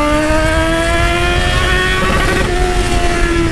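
A Yamaha XJ6 motorcycle engine revs hard and close, a loud, steady, harmonic-rich roar that dips slightly in pitch partway through, with no talking over it.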